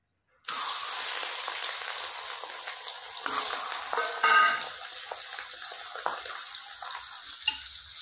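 A katla fish head fries in hot oil in a home kitchen for Bengali dal, a loud continuous sizzle that starts abruptly and crackles steadily throughout, with no talking.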